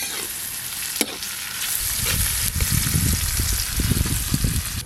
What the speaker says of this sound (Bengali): আদা রসুন আর পেঁয়াজ কুচি একসঙ্গে একটু ভালো করে ভাজা ভাজা করব।